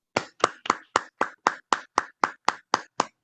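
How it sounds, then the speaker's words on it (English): An audience at a scholarship program applauds the presenters with evenly spaced sharp claps, about four per second, loud and close, with no talking. "Please join me in giving them a round of applause for a job well done."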